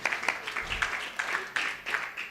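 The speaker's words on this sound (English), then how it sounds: "Give yourself a round of applause." Scattered applause from a small gathering at a fiftieth birthday celebration during a Ramayana Katha devotional program, sparse uneven claps with rhythmic bursts, moderately faint, with no talking over it.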